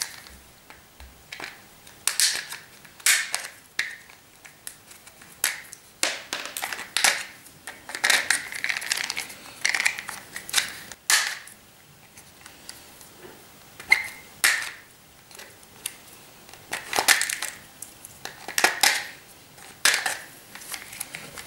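Plastic knockout plugs snapped out of drywall electrical boxes, a rapid series of sharp cracking clicks and plastic crunches, close and fairly loud, with no talking.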